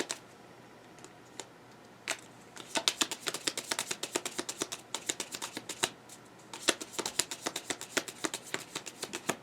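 Tarot cards are shuffled close by, with a fast, irregular run of crisp snapping and flicking that begins sparse and grows into dense, steady riffles, loud over a quiet background.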